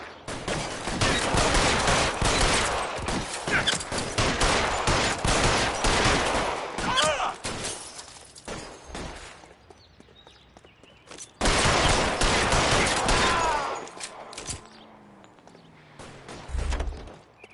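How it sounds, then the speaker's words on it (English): A shootout in LA Noire, with sustained rapid gunfire cracking in dense bursts, a short lull, then another heavy volley and a final lone shot, loud and close. "Lay down some covering fire"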